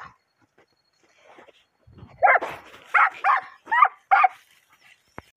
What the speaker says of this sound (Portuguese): a cachorrada tá firme aí